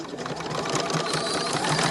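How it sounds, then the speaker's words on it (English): A sewing machine runs fast and continuously, stitching a straight line across small fabric scraps with a dense, even mechanical whir. "sew the second line."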